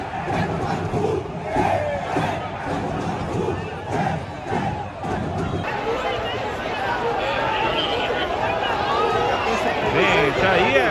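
Football supporters protest in the packed stands at Curuzu stadium during a tense match after another Paysandu defeat, a dense roaring crowd of shouts and chanting that swells and stays loud throughout, with voices mixed into the din.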